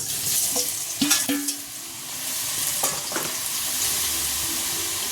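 Boiled potatoes fry in oil spiced with garam masala, hissing steadily while a spoon stirs and scrapes the pan in a few distinct strokes.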